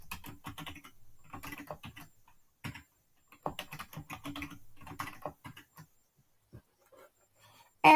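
Someone types a password on a computer keyboard, with quick bursts of close, crisp key clicks separated by short pauses, then a few sparse taps toward the end, heard alone in a quiet room.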